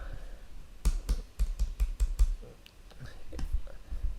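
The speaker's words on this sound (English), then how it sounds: "Just gonna type a country code, which is IN" Computer keyboard keys are tapped in a quick irregular burst of crisp clicks, followed by a few scattered keystrokes, close and clear with faint background noise.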